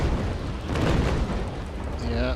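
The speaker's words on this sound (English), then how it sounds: "I'm going to get another broadside on him here." Ship cannons firing a broadside in the Naval Action sailing game, a deep rolling boom of several heavy shots blending into a long rumble, loud and close.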